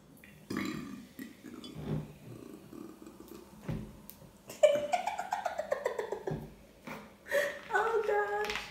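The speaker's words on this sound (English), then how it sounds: "I be burping for days." A person burping repeatedly during a couple's burping challenge, croaking belches in quick succession with throaty, stretched sounds, close and fairly loud, with little gaps between.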